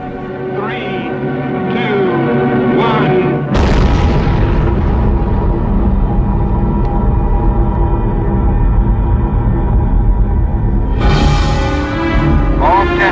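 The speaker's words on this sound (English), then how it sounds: "the United States detonated its first super bomb, a thermonuclear device with a human name, Mike" The Ivy Mike thermonuclear bomb test in the Marshall Islands erupts as a sudden massive boom, then a long, loud, sustained rumbling roar that swells again near the end.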